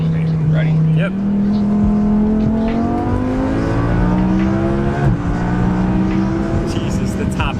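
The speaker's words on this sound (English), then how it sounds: "I'm in a V10 Plus with 2 turbos behind me." A twin-turbo V10 in an Audi RS6 Avant accelerates hard from inside the cabin, a loud, rising engine roar climbing through the gears with a brief dip at each shift.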